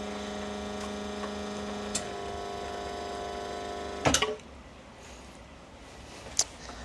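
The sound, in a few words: espresso machine making espresso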